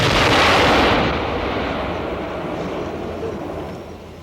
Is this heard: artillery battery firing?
yes